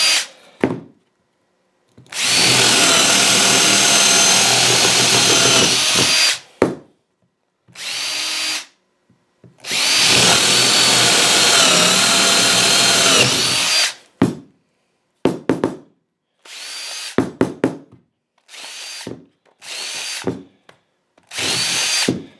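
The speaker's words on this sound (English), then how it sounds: "I'm going to drill my holes to connect that." A power drill bores angled holes into wood for a homemade carpenter bee trap, with two long loud whirring runs followed by several short bursts and stops, close by and alone.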